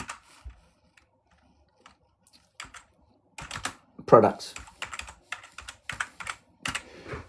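Computer keyboard typing during a livestream on selling digital assets, bursts of quick clicking keystrokes close by, broken by pauses, with a person talking briefly between the typing.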